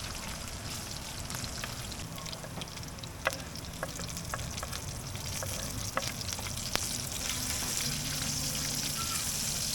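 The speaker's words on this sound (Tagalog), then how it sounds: "And saute all the ingredients. Ginger, onion, garlic, and chili green." Ginger, onion, garlic and green chili sauté in hot oil for a Filipino fish escabeche, giving a steady, close sizzle throughout with occasional sharp clicks of stirring.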